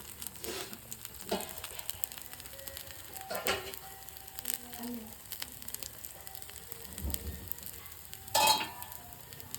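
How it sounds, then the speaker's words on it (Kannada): Paddu batter cooks in an oiled pan covered with a plate, giving a soft, steady sizzle and crackle with a few louder clatters and scrapes scattered through it. "ಇವಾಗ ಮೇಲ್ಗಡೆ ಸ್ವಲ್ಪ ಎಣ್ಣೆ ಹಾಕಿ ಒಂದು ಪ್ಲೇಟ್ ಮುಚ್ಚಿ ಪಡ್ಡನ್ನ ಬೇಯಿಸ್ಬಿಡೋಣ."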